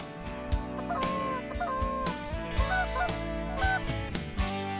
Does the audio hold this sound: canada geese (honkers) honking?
yes